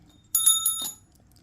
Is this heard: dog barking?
no